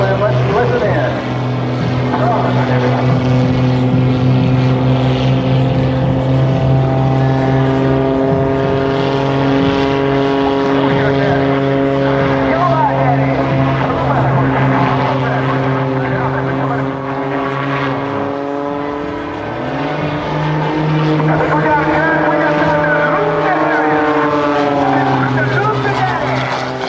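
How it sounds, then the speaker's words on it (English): Sean Tucker's propeller aerobatic plane at an airshow flies backwards at about 80 mph, its engine droning loud and steady for the whole stretch with pitch shifting slowly as it holds and circles, while commentary voices run over it. "he's going to back this aircraft up. 80 miles an hour backwards, and Eric continues to circle him"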